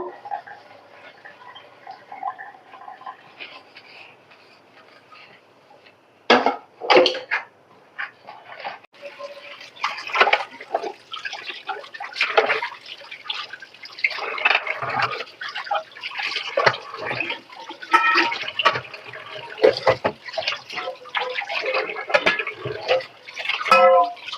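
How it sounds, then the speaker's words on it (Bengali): Dishes being washed in a basin full of plates and pots in a home kitchen sink: clattering crockery, splashing and running water in irregular bursts, close and fairly loud after a quiet start. "বেসিন ভরা থালা বাসন, এগুলো এখন হচ্ছে আমি ক্লিন করে নেব।"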